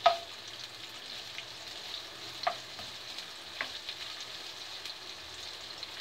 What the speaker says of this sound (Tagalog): So, gisa-gisa lang.